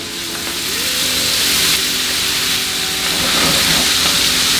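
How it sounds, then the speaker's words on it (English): Pork chops, potatoes and vegetables sizzle together in one pan, a loud, steady hiss and crackle of frying that runs unbroken throughout with no talking. "you're gonna get that nice and sauteed in there"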